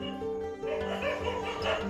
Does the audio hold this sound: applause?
no